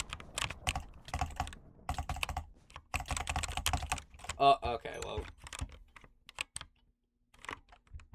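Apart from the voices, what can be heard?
typing on a computer keyboard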